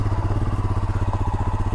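A motorcycle ridden solo toward a forest hill viewpoint gives a close, loud, evenly pulsing engine thump, a fast regular beat holding steady at a constant speed.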